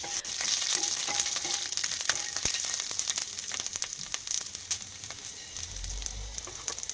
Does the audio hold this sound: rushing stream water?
no